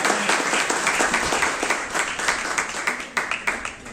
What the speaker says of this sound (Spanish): A Él ríndele un aplauso